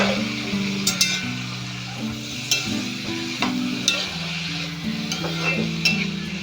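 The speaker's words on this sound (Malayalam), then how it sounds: "അപ്പോൾ നമ്മൾ ഈ അരിഞ്ഞ് വെച്ച ഈ കൂട്ടിൽ ഈ എണ്ണയിലിട്ടൊന്ന് വഴറ്റിയെടുക്കണം." Chopped watermelon sautés in oil in a pan, a steady sizzle broken by rhythmic stirring scrapes and light clinks of the utensil, with a low background hum.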